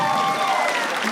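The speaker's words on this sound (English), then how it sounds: "everyone give it up for that story" Audience applause at a live stand-up comedy crowd work show, a brief dense patter of clapping from the room with a few voices audible underneath.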